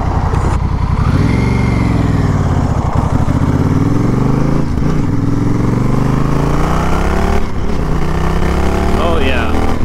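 Honda Rebel 1100 motorcycle engine, a 2022 model, revving up and down repeatedly with rising and falling pitch sweeps, loud and close, as someone talks over it.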